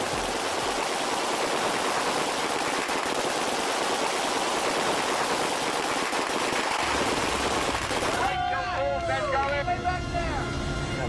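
Dense, rapid barrage of rigged bullet hits tearing across the metal exterior of an Airstream trailer on a film set, loud and continuous for about eight seconds before giving way to a tonal voice-like sound.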